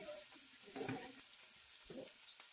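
Sliced onions fry in plenty of oil for chicken fry. A quiet, continuous sizzle runs throughout, broken by two short bursts of stirring. No one speaks.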